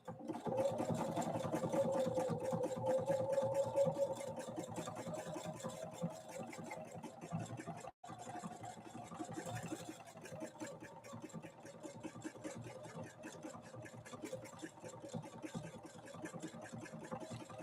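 Husqvarna Viking 690Q sewing machine stitching, a fast steady mechanical chatter of the needle running continuously, close and clear, with one brief pause midway before it resumes.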